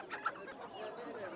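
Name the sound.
black chicken clucking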